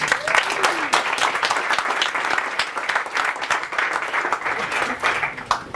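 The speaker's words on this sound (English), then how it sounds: "let's clap it up" A live show audience breaks into dense, sustained applause and clapping close by, with scattered cheers and whoops mixed in, holding steady throughout.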